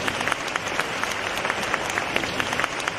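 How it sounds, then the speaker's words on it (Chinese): An audience at a Buddhist Dharma assembly in Malacca, Malaysia applauds with dense, steady clapping from a large crowd at moderate distance, with no talking. "现在让我们用最热烈的掌声"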